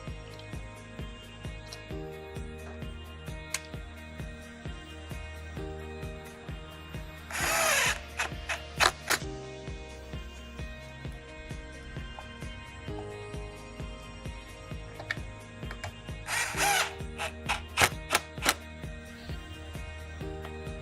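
Power drill tightening screws on a Kirby vacuum pivot, two short bursts of whirring drilling among clicks and handling knocks, close and moderately quiet, with no talk.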